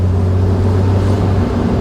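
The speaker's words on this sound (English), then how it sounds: "We're going to take it for a test drive." Restored 1968 Mercedes-Benz 280SL with a rebuilt engine, differential, transmission and new clutch, heard from inside on a test drive as a steady, close, low engine drone.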